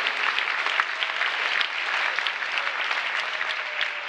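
Dense, loud audience applause at a rally, a continuous crowd of clapping hands with no gaps throughout.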